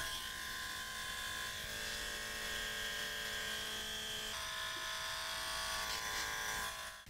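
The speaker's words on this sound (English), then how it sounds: "So the airbrush, I think, gives a little bit too much of those wrinkles." Airbrush spraying alcohol ink onto canvas, a steady close hiss with a faint motor buzz running continuously throughout.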